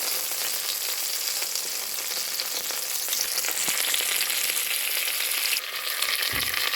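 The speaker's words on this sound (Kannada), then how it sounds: "ಸ್ವಲ್ಪ ಹೊತ್ತು ಫ್ರೈ ಮಾಡುವ." Onion and curry leaves fry in a pan for uppittu, a steady, close, continuous crackling sizzle with a brief scrape of stirring near the end.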